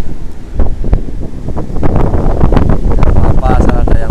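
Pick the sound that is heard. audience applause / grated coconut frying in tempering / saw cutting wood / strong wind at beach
strong wind at beach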